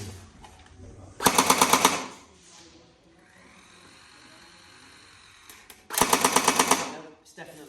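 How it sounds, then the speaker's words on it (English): A Tokyo Marui AA-12 automatic electric airsoft shotgun firing two short, loud full-auto bursts of rapid mechanical chatter. The bursts are separated by a few seconds of quieter motor whine and handling noise, and the gun is running on weak batteries. "Let's try reintroducing the magazine and if it carries on shooting."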